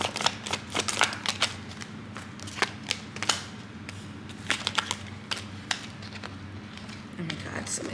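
Tarot cards are shuffled close up, a rapid run of crisp riffling snaps and flicks that comes in bursts and fades away between them.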